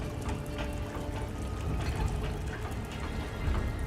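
Floodwater rising and rushing in a mine during a film scene, a dense, steady wash of pouring and churning water heard alone without talk.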